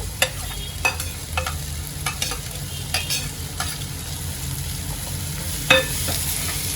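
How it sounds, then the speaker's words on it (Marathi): Curry leaves and garlic fry in hot oil with onions for a tendli dry vegetable dish. A close, continuous sizzle carries on throughout, broken by sharp spatter pops and a few scattered clicks. "फ्राय करून घेते मी तेलामध्ये सोबत मी कढीपत्ता आणि लसूण जे आहे ते पण घालून घेते"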